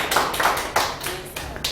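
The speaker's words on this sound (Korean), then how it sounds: "박수 한번 내주세요" A small audience at a lecture claps for a birthday in a dense, fairly close round of hand claps that carries on without pause.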